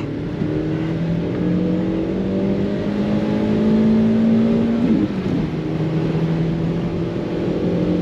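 A front-wheel-drive car's engine drones steadily with rising revs as the Bridgestone tires spin and whine on a wet road, loud and close, a brief dip near the end.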